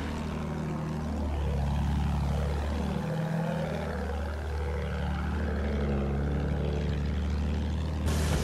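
A World War I aircraft in Battlefield 1 flies overhead, its propeller engine droning loudly and steadily while the pitch sweeps up and down as it passes close by.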